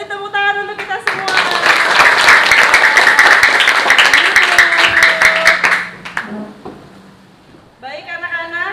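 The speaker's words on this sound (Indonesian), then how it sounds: "Beri tepuk tangan untuk kita semua." A classroom of pupils bursting into loud, dense applause that lasts about five seconds, then stops abruptly, giving way to a quiet room and a voice speaking.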